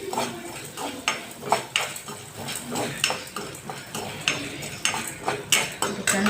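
Chana dal frying in a spoonful of oil in a pan for chutney, heard mostly as repeated close scraping and clinking of a spoon against the pan in a steady rhythm over a soft background sizzle.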